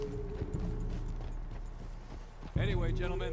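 Horse hooves clip-clop at a steady walking rhythm in the video game Red Dead Redemption 2, moderately close, with voices talking over them near the end.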